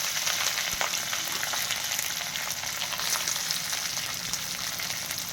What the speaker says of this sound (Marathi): आता हे सर्व व्यवस्थित आपण परतून घेऊया